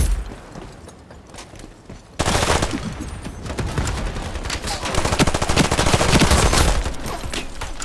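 A Thompson submachine gun fires in the Ironsight video game, loud rapid automatic bursts that break in suddenly after a quieter stretch and keep going with dense gunfire and clanks.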